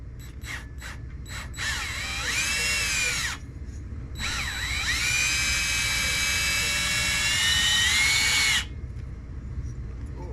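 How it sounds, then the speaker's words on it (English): A power drill spins to lap a valve from an Ingersoll Rand air compressor, starting with several short bursts, then two longer whining runs with shifting pitch and a grinding, scraping texture, close and loud. "we're going to go straight to drill lapping the valve"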